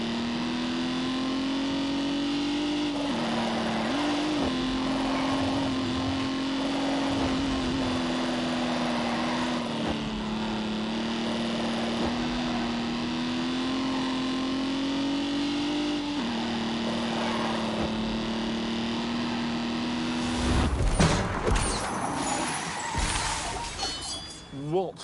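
A car suffering massive vibration drives with a steady low engine drone and a rattling hum throughout, while voices talk over it and a burst of louder clattering noise arrives near the end.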